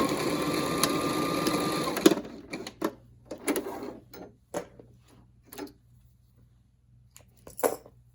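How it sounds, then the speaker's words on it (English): Sewing machine stitching a cloth medical mask, first as a steady continuous whir, then as a series of short start-stop bursts of stitching close by. "I think it's better just to go ahead and sew it in place now"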